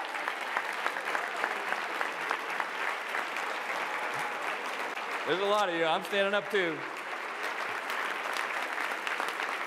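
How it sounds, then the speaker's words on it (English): An audience at a political rally, standing and applauding in sustained, dense clapping throughout, while a speaker's voice briefly cuts in over the noise. "We owe you all a round of applause."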